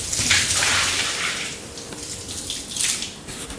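Water is dumped out of a container onto a studio floor and drains away, a steady close rushing pour that surges, eases slightly and surges again near the end, with no talking.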